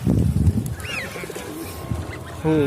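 Outdoor birds at a windmill park in Tasikmalaya, with pigeons alongside ducks, give a few short calls and chirps over a rough low rumble, ending in a brief harsh honking burst.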